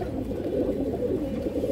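Pigeons, including silver-necked birds kept in pairs with a hen sitting on eggs in a pot, coo softly and continuously in low, murmuring tones, with no talk heard.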